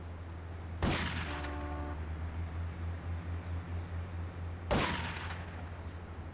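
Two separate gunshots ring out in Grand Theft Auto 3 Definitive Edition, each a sharp crack followed by a decaying tail, set against a steady low engine-like hum and faint game ambience.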